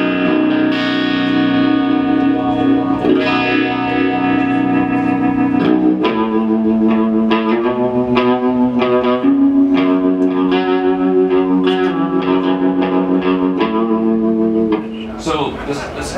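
An electric guitar plays clean, ringing chords and picked notes through a Blackstar amplifier head, sustained and bright, with a short pause near the end.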